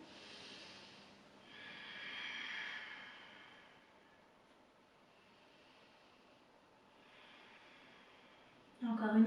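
Heavy breathing during a hatha yoga balance flow, with slow, soft breaths rising and falling across the clip and a louder rustle right at the end.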